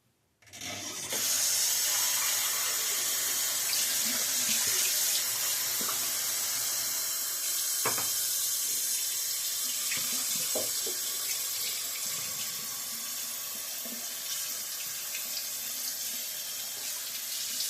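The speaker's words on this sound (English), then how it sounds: "So I'm going to fill this up with cold water." A tap runs steadily and strongly into a container, a continuous hissing splash of cold water filling up, close by, with a few small knocks along the way.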